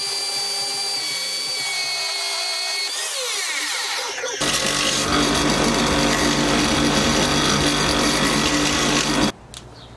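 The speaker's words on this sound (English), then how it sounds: "Let's go get the metal cut up and we can weld it in place." Metal being cut with a power tool for a battery box bracket on a Yamaha XS850 brat motorcycle, a loud, harsh, continuous grinding whine that ramps up partway through, runs steadily and then stops abruptly near the end.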